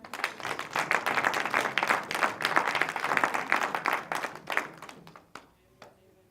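A church congregation claps and cheers for Jesus during a sermon, a dense burst of applause with mixed voices that swells for several seconds and then thins into a few scattered claps before fading out.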